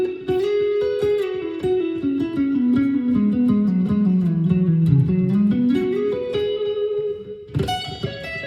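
Slow electric guitar lick, a steady stream of plucked notes with a descending then rising bass-register line, played alone with effects, ending in a bright strummed chord.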